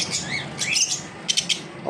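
Pet conures, lovebirds and cockatiels at a bird shop give a quick burst of chirps and squawks, with sweeping whistled calls and a few sharp tweets close by.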